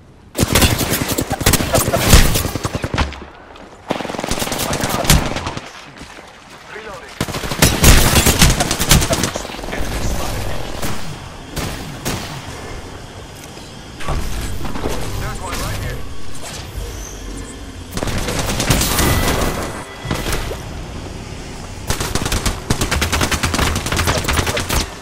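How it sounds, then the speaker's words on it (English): Rapid gunfire in the Apex Legends video game fills the clip with dense, loud bursts and sharp single shots from near and mid range, while voices talk over the action. "Target's right in front of me. Getting shot."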